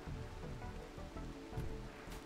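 Rain falls steadily in the video game Rimworld, a continuous soft hiss of drops with faint scattered thumps underneath and no talking.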